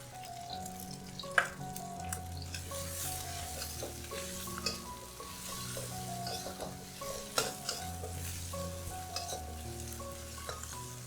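Chili and minced garlic stir-fried in a wok, giving a steady low sizzle with a spatula scraping and clinking against the metal, close and fairly quiet, with no voices.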